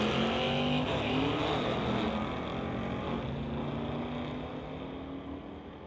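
Two 1969 Dodge Dart street cars drag racing on a strip, their engines roaring loudly and steadily throughout, the sound slowly easing in volume toward the end.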